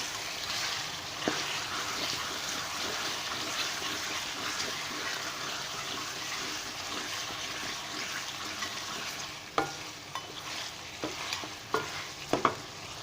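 Chicken frying in a pan with ginger, garlic and ground chili paste, a steady close sizzle with stirring scrapes and a few sharp clinks of a utensil near the end, no talk.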